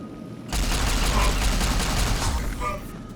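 Pistol gunfire in a Fallout game, a sudden burst of shots erupting after a quiet half second, loud and noisy with a trailing rumble, brief and close.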